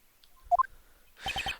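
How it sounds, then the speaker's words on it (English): A short phone ringtone from the Phoenix Wright video game, two bright electronic chirps followed by a brief buzzy three-pulse ring, faint and clean with no talk. "What is the stupid sounding ringtone?"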